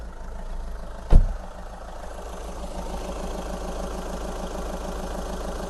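A sharp click or thump, then a 2011 Volkswagen Golf engine idles steadily with an even low rhythmic throb, close and unbroken.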